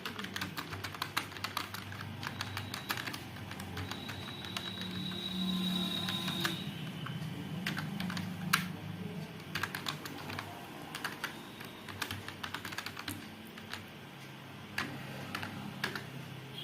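A computer keyboard clicks as text is typed in PageMaker, with irregular bursts of close, crisp keystrokes and short pauses over a faint room hum.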